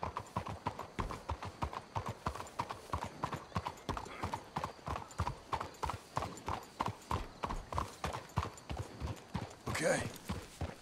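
Horses' hooves clip-clop in a steady, even rhythm on a Red Dead Redemption 2 trail ride, fairly faint, with a brief horse whinny near the end.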